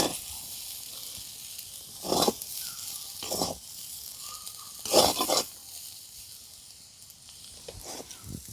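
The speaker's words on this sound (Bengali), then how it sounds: "চাউমিনটা কিন্তু দু তিন মিনিট নাড়াচাড়া করে ভেজে নিয়েছি" Homemade rice-flour chowmein noodles seasoned with Maggi masala being stir-fried in a pan: a soft, steady sizzle broken by a few louder bursts of tossing and scraping, with no talk.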